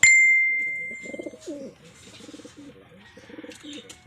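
A racing pigeon in a one-lap derby, ring number 664, perched near a rooftop, gives a run of soft, low, rhythmic coos close by, after a brief high ringing tone at the start.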